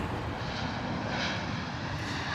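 A fixed-wing airliner arrives on runway 27 right at London Heathrow, heard as a steady, broad engine roar that fills the whole moment without a break, moderately loud and slightly distant.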